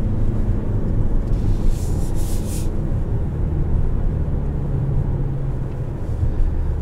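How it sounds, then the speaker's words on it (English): A 2022 Toyota RAV-4 XSE Prime cruises along with a steady low road and engine rumble heard from inside the cabin, continuous and fairly loud, no talking. "This is a RAV-4 I genuinely enjoy driving."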